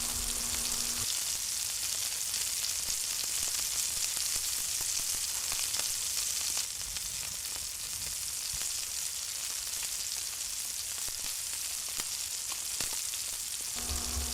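Afghani chicken tikka cooking on a grill gives a steady, even hiss and crackle of sizzling that continues unbroken throughout at a moderate, close level, with no voices.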